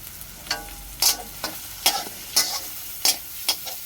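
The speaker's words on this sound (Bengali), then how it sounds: "ভালোভাবে নেড়ে ভেজে নেব মশলাকে" Spice masala with Kashmiri red chili powder and coriander powder frying in a pan, heard as a soft continuous sizzle with about eight sharp, evenly spaced scraping strokes of a spatula stirring it.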